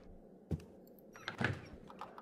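A door opening in the horror game Darkness Within 2, heard as a short dull thunk followed by a louder creaking, clattering movement with a few smaller knocks, fairly close in a quiet room.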